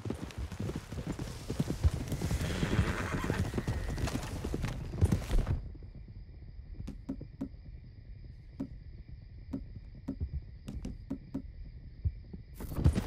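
Horses' hooves clatter in a rapid galloping rhythm as a gang rides out in a video game, loud and busy at first, then thinning to sparse, spaced hoof clops over a steady hum.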